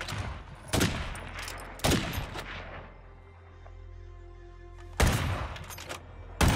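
Heavy auto howitzer fire in State of Decay 2, Lethal Zone: four loud, booming blasts spaced a second or more apart, each with a short echoing tail, and a quieter lull between the second and third shots.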